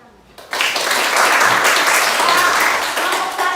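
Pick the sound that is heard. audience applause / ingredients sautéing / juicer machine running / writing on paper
audience applause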